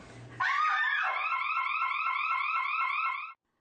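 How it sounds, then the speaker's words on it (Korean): A loud electronic siren wails in rapid repeating warbles for about three seconds, starting abruptly and cutting off just as suddenly, set off by a scream-detecting alarm in an empty women's restroom. "사이렌이 요란하게 울립니다."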